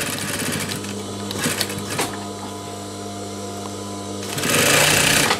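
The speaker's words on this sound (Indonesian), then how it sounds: "Kemudian bagian sebelahnya kita juga menjahitnya dari bagian atas." A sewing machine stitching a tote bag, running with a steady mechanical whir and rapid needle rhythm, briefly easing off and then speeding up louder near the end.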